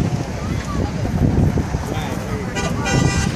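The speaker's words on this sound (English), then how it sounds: "There's some more honking at us as they're going around the corners or across the intersection." Car horns honking at street protesters at a Des Moines intersection, short toots sounding among loud crowd noise, wind buffeting and people talking.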